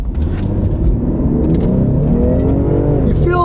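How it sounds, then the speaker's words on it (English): A new Ford SUV with a twin-turbo V6 pulls hard under acceleration, its engine note climbing steadily and loudly from inside the cabin over about three seconds, with road rumble underneath. "You feel those turbos kicking in? Nice acceleration."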